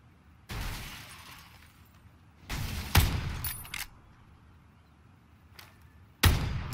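Winchester 94 lever-action rifle gunfire in the video game PUBG: a few sharp, loud shots spaced seconds apart, each with a short echoing tail, over a quiet background with faint clicks of the lever.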